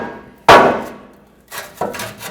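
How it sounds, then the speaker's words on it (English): Rubber mallet taps a catalytic converter pipe into place on a 2009-2010 Ford F-150, giving one solid, loud thud followed by two lighter knocks close by. "rubber mallet to tap it in"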